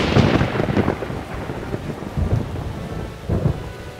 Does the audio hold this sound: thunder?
yes